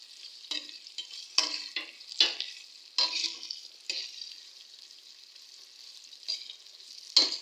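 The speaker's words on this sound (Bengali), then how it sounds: "একটু লাল লাল করে ভাজি করব।" Oil sizzling in a pan as onions or aromatics brown before cumin goes in, with several sharp crackling bursts and stirring scrapes over a steady hiss, close and moderately loud, no talk.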